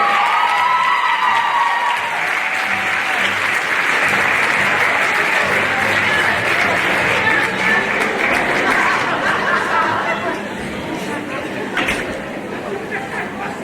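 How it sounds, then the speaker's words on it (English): High school pageant audience at a Mr. Hoosac show erupts in loud, sustained applause and cheering with shouts and chatter, easing somewhat near the end. "We're going to the Jersey Shore, everyone. Round of applause"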